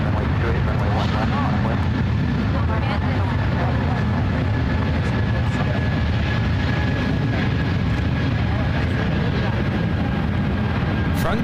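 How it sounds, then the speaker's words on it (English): A Frontier Airbus A320neo takes off at San Francisco International, a heavy, steady roar of jet engine noise filling the scene, with a voice talking over it. "Frontier 3462 taking off to Denver on the A320 Neo"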